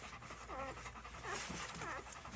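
An American Bully dog pants close by in quick, rhythmic breathy huffs over a steady background hum, with no talking.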